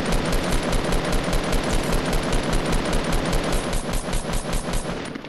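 Rapid automatic gunfire from a Fortnite match, a dense, steady stream of loud close shots rattling on for about five seconds without pause.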